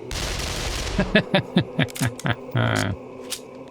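A gun fires a rapid burst of about seven sharp, evenly spaced shots in the 7 Days to Die video game, heard up close and loud. A broad noisy rush comes before the burst, and a short mechanical sound follows it.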